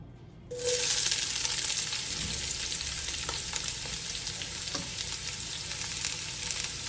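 Onions hiss and crackle steadily in hot olive oil, with occasional scraping stirs, close up and without voices.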